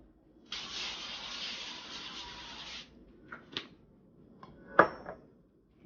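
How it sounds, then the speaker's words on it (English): Virgin olive oil cooking spray hisses onto a non-stick pan in one steady burst of about two seconds, followed by a few soft clinks and taps of kitchen handling. "I have virgin olive oil spray. I'm gonna spray the pan,"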